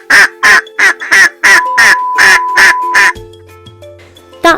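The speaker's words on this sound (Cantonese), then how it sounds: "答案就係鴨仔。" A duck quacks about nine times in a loud, steady, evenly spaced series close up, followed by a quieter stretch of low tones and a final short squawk.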